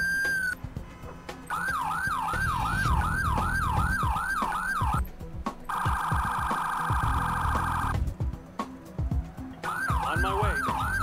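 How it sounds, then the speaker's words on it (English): Wailing and yelping emergency vehicle sirens from the Emergency 4 game with a Miami mod, including an Impala, loud and close, switching between rising-falling wail patterns and a steady tone, over a continuous engine rumble. "Listen to these sirens."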